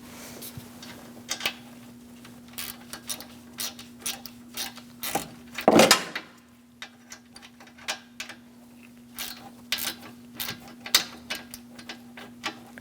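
A ratchet tightens AC line bolts on a 2002-2006 Toyota Camry 2.4 condenser, giving repeated clicking bursts with a louder clatter midway, close up over a steady low hum, no talking.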